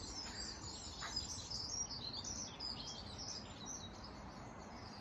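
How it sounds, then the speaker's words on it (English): Small birds chirp and tweet in a garden at about 8:30 on a Saturday morning, giving high, faint, scattered calls over a quiet outdoor background with no voices. "Listen to the birds."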